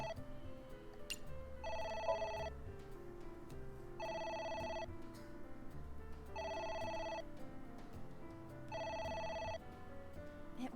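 A phone in the video game AI: The Somnium Files rings in four evenly spaced electronic bursts, each a bright trilling tone, over quiet background music and ambience.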